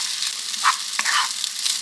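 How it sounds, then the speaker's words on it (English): Leftover rice frying in hot oil for a Mexican dish, a close, steady hiss of sizzling broken by a couple of brief scraping stirs. "we're going to fry this rice up"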